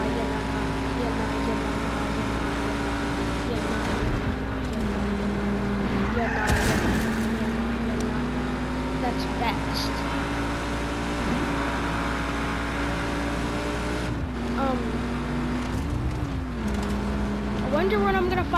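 A car engine in Just Cause is floored at full throttle and holds a steady, loud drone. Its pitch rises and dips as the gears shift, and someone talks over it.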